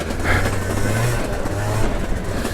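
A modded two-stroke scooter engine runs close by, its buzzing drone holding steady with slight pitch rises and no talk.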